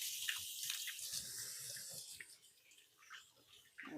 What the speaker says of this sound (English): to wash my hands real quickly.